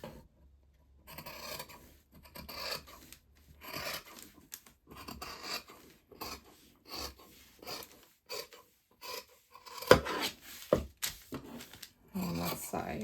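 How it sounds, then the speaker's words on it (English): Fabric scissors cut through fabric while a sewing pattern is laid out, making short bursts of crisp, raspy snipping and sliding that start and stop in an uneven rhythm, close up and fairly quiet. "I love that noise of the fabric scissors cutting through fabric."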